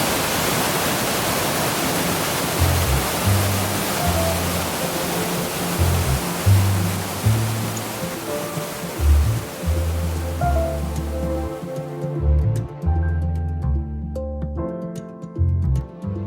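Two small waterfalls at Rincón de la Vieja in Costa Rica roar loudly and continuously nearby, a broad rushing wash that runs alone, with some low thumping handling bumps; the noise cuts back sharply near the end.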